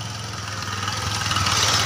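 A motorbike engine idles with a steady low throb, close by and growing slightly louder toward the end, with no voices.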